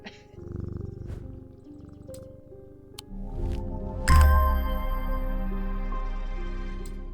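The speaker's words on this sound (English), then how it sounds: "Maybe it was a cat." A cat in the game Strange Antiquities purrs, a low steady rumble that swells after a couple of light clicks and chimes and continues close and even to the end.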